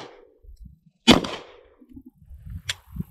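A gun's firing mechanism snaps once on a dummy round with a single sharp, close click, followed by a few faint handling sounds.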